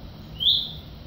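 A single short, high bird call rings out once near a flock of wild turkeys, rising briefly above a quiet outdoor background.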